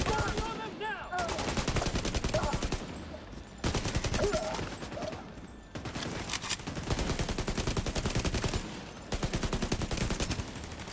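Rapid automatic gunfire from a video game firefight comes in loud sustained bursts separated by short pauses, with rattling shots dense and close throughout.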